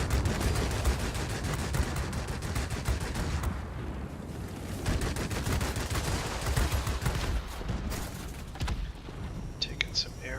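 Continuous rapid machine-gun fire rattles from aircraft in the World of Warplanes air combat game, including a Tier VII Russian Yakovlev Yak-3, dense and loud with brief gaps under a steady engine roar.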